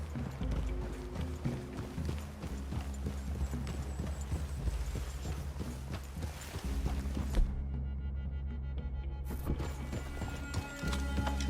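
Horse hooves in a video game clip-clop steadily at a brisk pace, close and rhythmic, over a low rumbling background.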